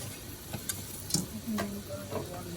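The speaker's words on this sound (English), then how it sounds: "And now we're going to whisk it until it turns kind of into a roux." Whisking flour into a roux in a pan: soft, irregular scraping and light ticking strokes of the whisk over a faint background sizzle, close by and without talk.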